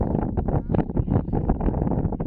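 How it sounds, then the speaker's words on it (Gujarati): Heavy wind buffeting the microphone outdoors on a village farm, a loud rumbling roar that gusts and pulses throughout. "સંભળાય નહીં કઈ પવન બહુ લાગે"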